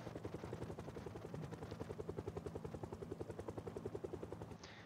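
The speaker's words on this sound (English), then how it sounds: "I heard what every player dreads to hear after their first week of survival: the helicopter." Helicopter passing overhead in the survival game Project Zomboid, a steady rhythmic rotor chop that stays loud and even throughout, with no talking.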